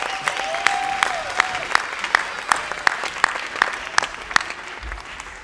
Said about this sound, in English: a big round of applause for Brittany and Fabi